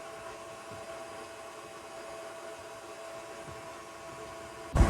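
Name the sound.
stand mixer creaming cookie dough on speed 4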